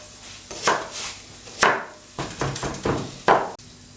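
A knife chops green onion finely on a cutting board, giving about six sharp, close knocks in an uneven rhythm with short pauses between them.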